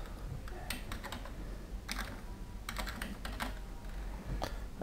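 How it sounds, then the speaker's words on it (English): Keys clatter on a computer keyboard as an IP address is entered into a remote desktop viewer, irregular bursts of close, crisp keystrokes with short pauses over low room noise. "type in the IP address"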